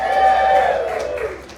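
Cheers and whoops from a casino audience backing poker player Phil Hellmuth at Rivers Casino in Schenectady, New York, a short loud swell of voices that tapers off.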